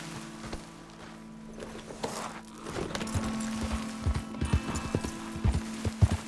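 Horse hooves clip-clop in Red Dead Redemption 2, a steady walking rhythm of distinct, close thuds that grows louder and more pronounced toward the end, over a low ambient outdoor hum.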